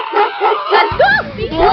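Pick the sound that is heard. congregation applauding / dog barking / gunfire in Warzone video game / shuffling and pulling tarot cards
dog barking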